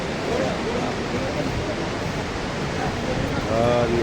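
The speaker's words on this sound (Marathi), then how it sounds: "खाली बघा नदी वाहते" A river flowing far below a mountain trail on the Kedarnath trek, heard as a broad steady rushing roar blended with wind, growing slightly louder near the end.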